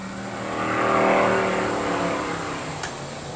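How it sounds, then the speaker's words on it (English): A car drag racing through town heard from a distance, a broad engine roar that swells and slowly fades as it passes, steady and somewhat far off, with no talk. "somebody is drag racing illegally through town"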